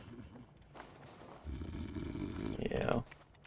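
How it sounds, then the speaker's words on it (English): A drunk character snoring in the video game Tainted Grail, one long rasping breath swelling loud and then fading, with quieter breathing and room noise around it. "Drunken snoring."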